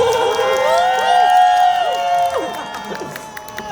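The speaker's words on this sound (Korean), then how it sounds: "많은 박수 한 번 더 부탁드리도록 하겠습니다." Crowd at a fan meeting for a singer at a mall in Orange County, cheering with whoops and applause, loud and close throughout, with voices and shouts rising over the clapping.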